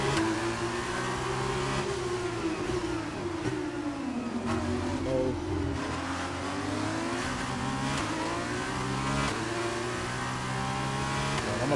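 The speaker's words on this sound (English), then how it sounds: "turn the RPMs up" A race car engine in F1 22 revs steadily and loudly through the whole stretch, its pitch rising and falling with gear changes as the pack runs nearby.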